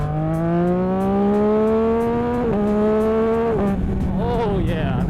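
A 2026 Yamaha R9 motorcycle with a BAUCE Racing tune pulls hard in second gear from a rolling start, its engine note climbing steadily and loud up close, with brief dips at shifts and a rider's voice over wind noise.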